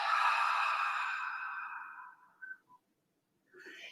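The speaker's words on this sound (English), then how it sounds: "Open the mouth, slowly sigh it out." A single slow open-mouthed sigh during yoga breathing practice, breathy and close, tapering over about two seconds, followed by a brief pause and the start of another breath.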